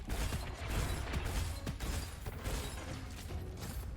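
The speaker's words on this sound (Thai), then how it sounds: "รีโหลด" Weapon reload in the first-person shooter Gunfire Reborn, a run of mechanical clicks and clunks with a few sharp metallic snaps amid busy low game noise, close and moderately loud, with no talking.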